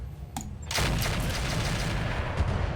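A heavy artillery piece fires precision ammunition in a video game, one sharp blast followed by a long, loud rumbling roar that fills the rest of the moment.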